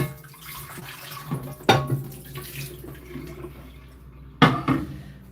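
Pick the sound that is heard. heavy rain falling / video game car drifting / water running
water running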